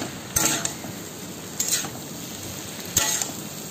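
Fish roe masala with chili and cumin powder is sautéed in a pan, a steady close sizzle broken by three sharp scrapes of a utensil against the pan.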